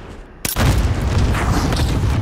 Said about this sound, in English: He clustered me before he sniped me